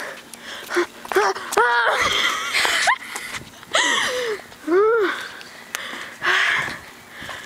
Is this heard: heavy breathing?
yes